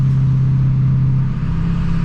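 Duramax diesel truck drives with a loud, close, steady engine drone and rumble, constant throughout without pauses.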